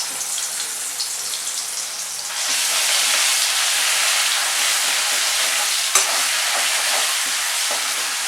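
Masala spice paste hits hot oil for Assamese-style crab, and a loud, hissing sizzle jumps up and holds steady, with one sharp knock partway through and no voices.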